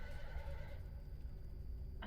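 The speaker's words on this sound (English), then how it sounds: "That sounded like a horse. Or maybe a pig." A horse or pig squeal in a horror video game, a faint strained whinny-like cry that fades out under low ambient rumble, distant and alone with no talking.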